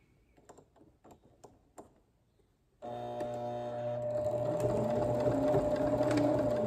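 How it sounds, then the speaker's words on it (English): A sewing machine stitching a Tahitian hip belt: a few soft clicks, then the motor starts and runs steadily with a loud, even whirring hum to the end. "So now you can do the last sewing, which will be just to close this end."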